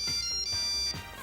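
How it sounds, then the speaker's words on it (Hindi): Mobile phone ringtone playing a bright, high electronic melody in short repeated phrases, fairly clear and close, with soft low thumps between notes and no talking. "फोन है।"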